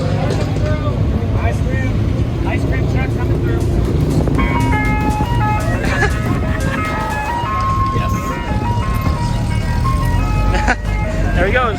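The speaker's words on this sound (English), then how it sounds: "Ice cream truck coming through." An ice cream truck passes on a street in the United States, its melodic jingle ringing out clearly over the engine rumble and the noise of nearby traffic, with people talking close by.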